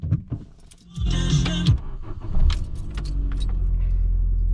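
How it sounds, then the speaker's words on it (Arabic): A car in Jordan, left parked for a month and a half, is started: keys jangle and clunks come first, then the engine cranks, catches and settles into a steady, close idle with no talk. "خلينا نشوف إذا بعد شهر ونص السيارة تشتغل عادي"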